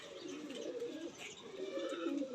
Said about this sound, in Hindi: मुनीर साहब वाले लाखे कबूतर है